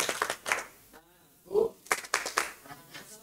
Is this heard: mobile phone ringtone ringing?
no